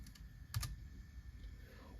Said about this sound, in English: we're going to try typing in DIR again